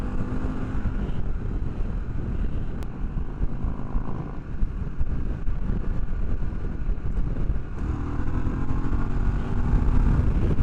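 A Harley-Davidson Pan America motorcycle rolls on the throttle in fifth gear while riding. Its steady engine drone climbs under constant wind buffeting on the microphone, close and continuous with no talk.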